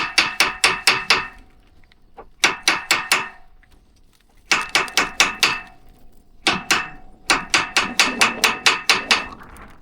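Loud, close hammering of an aluminium bar against a rusty, seized wheel bearing on a commercial fishing trailer, struck in four quick bursts of about six to eight ringing metallic blows, with short pauses between bursts.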